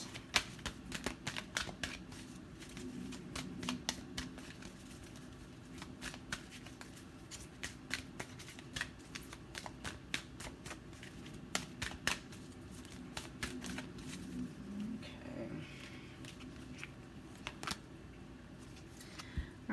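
Tarot cards being shuffled and drawn, a steady stream of crisp riffling clicks and snaps running continuously, close and fairly soft, with no talking over it.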